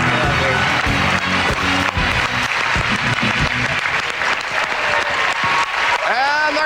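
A studio audience at a televised ballroom dance competition bursts into loud, sustained applause and cheering as they rise to their feet, a dense wall of clapping with a voice talking over it.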